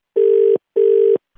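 A telephone line tone after a call is hung up: two loud, evenly spaced steady beeps of equal length, separated by a short gap, heard alone.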